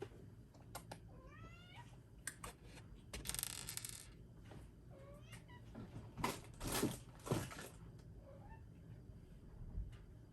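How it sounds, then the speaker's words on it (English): A cat meows several times in short, rising calls amid clattering and scattered bursts of noise nearby. "You may have heard the dulcet tones of Star-Lord the cat."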